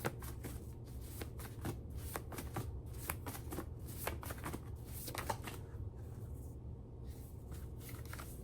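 Tarot cards shuffled by hand in a quiet room: repeated soft riffling and flicking bursts in an irregular rhythm, close and fairly faint, with no talking.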